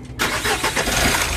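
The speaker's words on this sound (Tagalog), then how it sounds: "switch off ko muna itong ignition. Tapos start ko ulit yan." A Mitsubishi L300 Euro4 van engine cranks and catches after a brief quiet moment, then settles into a loud, close, steady idle rumble during a check-engine repair.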